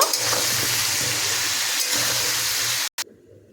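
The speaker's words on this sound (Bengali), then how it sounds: "ফুলকপিতেও হালকা লবণ দিয়ে সমস্ত ফুলকপি সুন্দর করে লাল করে আমি ভেজে নেব" Cauliflower florets, lightly salted, fry in hot oil with a loud, dense, continuous sizzle that cuts off abruptly near the end, leaving a faint hum.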